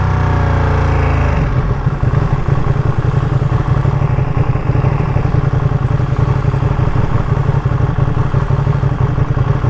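A 2023 limited-edition Ducati Panigale V2 Troy Bayliss motorcycle roars loudly and steadily up close, its engine note dropping as it downshifts early on, then holding a dense, rumbling drone with clatter throughout.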